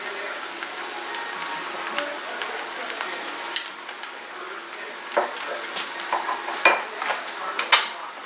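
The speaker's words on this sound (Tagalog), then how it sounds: "ihalo lahat guys para ma-mix yung mga seasoning" Noodles being stir-fried and tossed with oyster sauce and seasoning in a pan, with scraping utensil clicks and light sizzle, close, growing busier toward the end.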